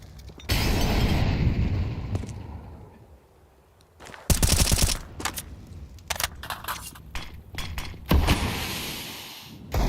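Rifle gunfire in a Counter-Strike match at IEM Cologne 2025: loud rapid bursts of automatic shots, then a quieter lull before more clustered volleys and single cracks, with no commentary audible.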